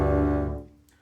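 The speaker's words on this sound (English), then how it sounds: "That's because my bow is touching two strings, and my bow is also very crooked." A contrabass note bowed with a crooked bow that touches two strings sounds briefly and unevenly, then decays quickly into near silence.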